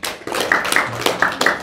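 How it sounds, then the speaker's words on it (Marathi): An audience claps for a birthday with sharp, fairly regular hand claps in a close, lively burst that continues steadily throughout. "टाळ्यांच्या गजरांमध्ये"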